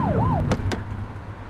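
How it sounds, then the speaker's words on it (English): A police car siren in the video game The Precinct gives a short rising-and-falling whoop, followed by a couple of sharp thumps over a low engine rumble. "Get on their tail and flip the siren."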